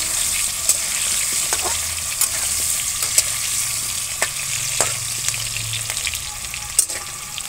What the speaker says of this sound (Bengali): এখানে আমাদের আলু ভাজাটা মোটামুটি হয়ে এসেছে